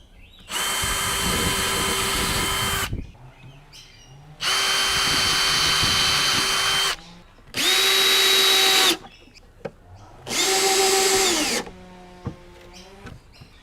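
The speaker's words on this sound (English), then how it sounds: "For this step, I prefer pre-drilling the holes to reduce any chance of splitting." A power drill bores pilot holes into a metal strip on a cedar Flow hive, four loud sustained whirring bursts separated by short quiet gaps.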